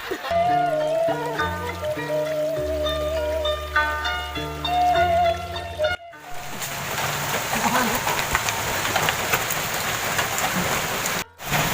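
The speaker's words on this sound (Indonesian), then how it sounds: "Balik hujan nih." Heavy rain pours down steadily and close, a dense patter that follows a stretch of music and fills the rest of the scene.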